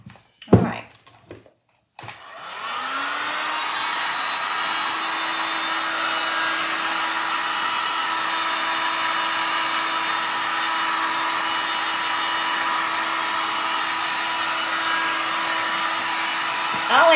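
A hair dryer starts up after a few brief clatters and then blows in a loud, steady whirr with a constant hum, drying stamped ink on a drop cloth.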